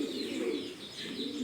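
Farm pigeons cooing in soft, steady rolling calls that continue throughout, close by with a faint airy background and no talk.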